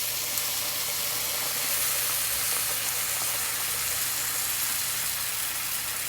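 Vegetable broth hitting a hot pan of caramelized onions, a steady broad hiss and sizzle that holds evenly throughout at moderate level with no talking.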